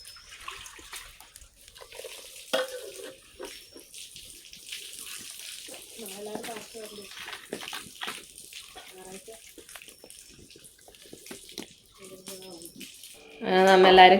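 Tap water runs in a household kitchen behind voices, then a loud, close gush of water takes over at the very end.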